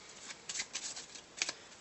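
A deck of playing cards is shuffled by hand, a quiet run of riffling flutters in short bursts, close and alone.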